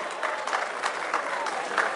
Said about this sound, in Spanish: ¡El aplauso bonito!